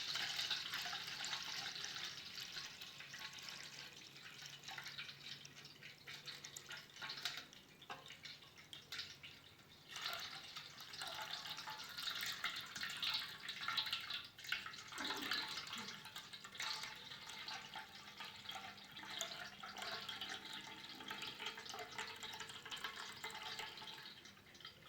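Water being poured off a settled sediment mixture while preparing a traditional iron remedy, a continuous soft splashing trickle with drips, fairly close and faint, with no talking.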